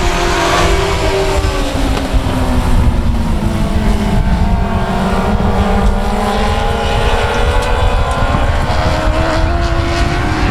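Race cars thundering around South Texas Speedway on the restart, a loud, continuous roar of several engines with rising and falling pitch as they pass close by, no voices.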